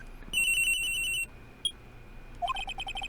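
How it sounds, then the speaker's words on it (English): Cell phone ringtone in Ace Attorney: Trials & Tribulations, a bright electronic ring that sounds for about a second, pauses, then returns as a run of quick repeated beeping tones, no voices. "I received a call on my cell phone."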